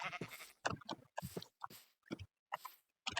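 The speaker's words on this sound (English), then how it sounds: "There's a sheep in a tree." Sheep in a farm life video game bleat in a rapid series of short, clear, close bleats separated by silent gaps.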